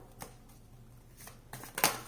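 Tarot cards being shuffled by hand, a few soft riffling bursts ending in a sharper, louder flutter of cards close to the microphone.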